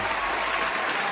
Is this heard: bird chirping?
no